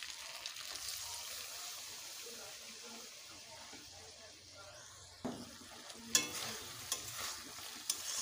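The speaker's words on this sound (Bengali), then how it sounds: "এবারে দিয়ে দেবো বেটে রাখা তিল। এবারে একটুখানি 2-1 মিনিট কষে নেব।" Ground sesame paste sautéed in a pan for a vegetarian sesame-okra dish, a steady soft sizzle with stirring scrapes, growing louder and busier toward the end with sharper clatter.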